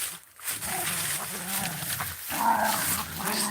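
A miniature poodle puppy growls and snuffles in play while tugging at a toy, a continuous low rumbling grumble with brief breaks, close and fairly loud, with a faint human voice now and then.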